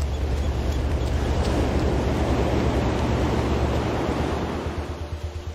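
Ocean waves crash below a low rocky hill by the sea in a loud, continuous surging roar that swells and recedes, easing slightly toward the end, with no voices.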